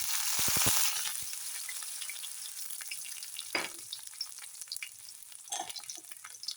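Mustard seeds crackle and splutter in hot oil with chillies, garlic and ginger for a Kerala-style thoran, a dense hiss of frying with sharp pops near the start and scattered spatter later, close and steady, no talking.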